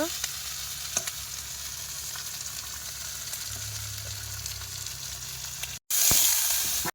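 Meat sizzles and fries steadily in a pan while kosha mangsho is being cooked in a Sundarbans village kitchen, with occasional stirring scrapes, a brief cut, then louder bright frying.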